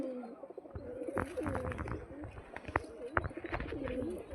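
A male pigeon coos on a rooftop in low, rolling bursts, with other bird calls and faint voices mixed in at close range.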